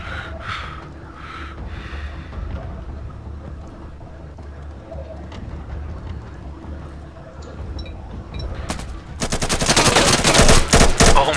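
Gunfire in Insurgency bursts in near the end as a loud, rapid string of sharp automatic shots, after a quieter stretch of faint background noise and scattered small sounds.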